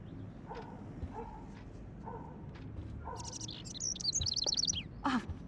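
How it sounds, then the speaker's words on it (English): A bird trapped inside a room in the video game Life is Strange gives a quick run of bright, high chirps and tweets near the end, following a stretch of faint, quiet tones. "can you help me get this bird out of here?"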